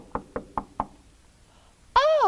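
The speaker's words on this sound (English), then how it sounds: "All of a sudden, there was a knock on the door." Four sharp knocks on a door, evenly spaced and close by, rung out alone in a quiet room within a children's puppet-theater storytelling scene, followed by a brief silence before a bright, high voice begins.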